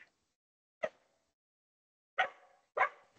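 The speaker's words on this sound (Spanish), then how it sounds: "perdonad que supongo que estáis oyendo a mi perrita." A small dog barks in short, separate yips: one bark, a pause, then two more close together, fairly close and loud, during an online meeting with no talk over them.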